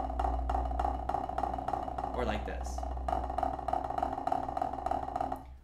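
Snare drum buzz roll played unevenly, with loud, close, regularly pulsing strokes that surge with each hand, briefly interrupted by a short spoken phrase.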